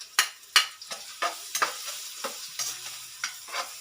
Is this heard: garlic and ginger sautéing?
yes